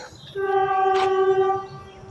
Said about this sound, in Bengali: চলো এখন ডিপার্চার দেখিয়ে দিলাম তোমাদের মানে বন্দে ভারত এক্সপ্রেস